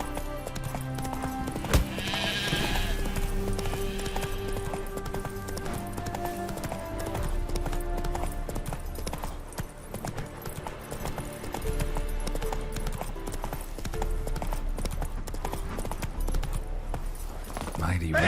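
Horse hooves clop steadily throughout a Witcher 3 game scene, a continuous galloping rhythm under layered game music and ambience, with a brief voice near the start.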